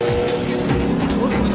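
Race cars roar through laps on a track in an Indian film, a loud, sustained engine drone with shifting pitch, mixed with background voices.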